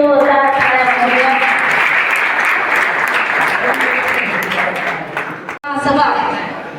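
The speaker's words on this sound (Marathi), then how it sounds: "कृपया सरांसाठी आपण जोरदार टाळ्या वाजवूया." Audience applause at a public meeting in Malegaon, sustained loud clapping from a crowd lasting several seconds, with a voice talking over it and a brief break before it resumes.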